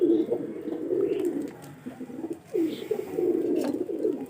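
Giribaz pigeons coo nearby in soft, rolling low phrases, one after another with brief pauses, with a few faint chirps in the background.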